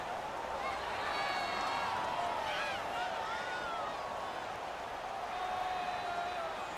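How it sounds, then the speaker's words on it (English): A stadium crowd roaring in the football video game Madden NFL 19, a continuous loud wash of cheering and noise during a final two-point conversion attempt. "Listen to this crowd now."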